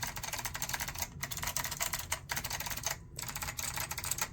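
Rapid typing on a Datacomp DFK-191 keyboard with Alps SKCM Bamboo White switches, a dense stream of crisp, close keystrokes with a few brief pauses between bursts.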